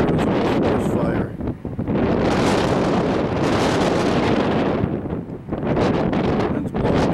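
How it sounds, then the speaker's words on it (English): Strong gusty wind blows outdoors near a forest fire in Apache County, Arizona, roaring steadily and loudly into the microphone with brief lulls between gusts. "The wind's blowing me down, so the wind is really gusty today"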